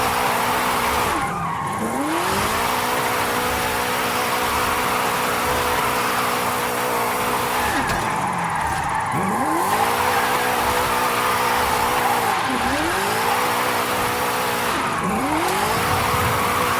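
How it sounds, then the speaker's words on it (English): Car drifting in the Forza Horizon 5 racing game, engine revving loudly with repeated sweeping pitch rises and falls and continuous tire squeal throughout, steady and close. "Over 1 million drift points. That much tyre smoke must be visible from the city."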